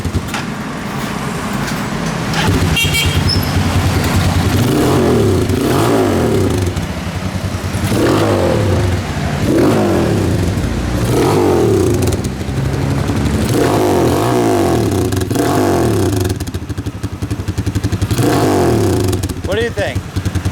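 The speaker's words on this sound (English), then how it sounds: "we got the new silencer in it now" A motorcycle fitted with a new Orion exhaust silencer idles and revs close by, its low engine rumble swelling and easing in steady waves, with people talking over it.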